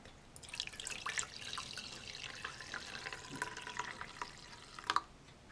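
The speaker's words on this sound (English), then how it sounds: "And this is just hot tap water." Hot water runs from a tap into a container holding a little dish detergent, making a soft, steady splashing and trickling with occasional brighter drips and gurgles, fairly close and quiet.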